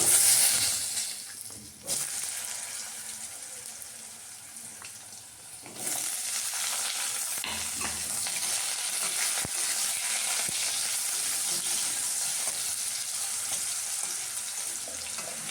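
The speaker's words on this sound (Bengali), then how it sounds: "আলুগুলো ভেজে নেব।" Potatoes frying in hot oil in a wok, a steady broadband sizzle that jumps louder after a few seconds and then holds at an even level, close up, with no talking.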